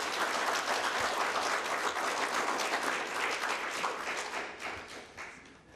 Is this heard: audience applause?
yes